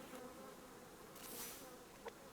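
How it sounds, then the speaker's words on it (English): Honeybees buzz softly in a calm outdoor scene in the survival game Subsistence, a faint steady insect hum with a brief brighter swell midway and a small click near the end. "Let's grab these honeybees."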